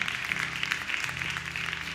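A church congregation applauds to God during a sermon, steady dense clapping heard at moderate level over a sustained low musical hum.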